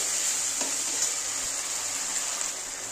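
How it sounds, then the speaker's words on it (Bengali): Spice masala for chicken kosha frying and being stirred in a pan, a continuous close sizzle with occasional light spoon scrapes. "মশলাটা এবার ভালো করে কষিয়ে তারপরে চিকেনগুলো দিয়ে দেবো।"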